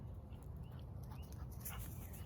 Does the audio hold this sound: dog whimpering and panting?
yes